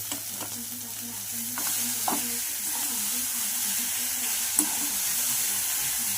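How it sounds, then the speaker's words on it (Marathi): Puffed rice being stirred in a hot pan for fried bhel, giving continuous close scraping and rustling over a soft sizzle, with a few sharp clinks of the spoon against the pan. "तर चिरमुरा आपण सगळं टाकून घेतलेलं आहे आता ते हलवून घेऊया चांगलं"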